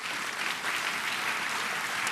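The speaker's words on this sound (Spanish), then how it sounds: "Dele un fuerte aplauso a Cristo Jesús." A church congregation applauds during a pastor's sermon, giving steady, sustained clapping from many people that fills the room at an even level.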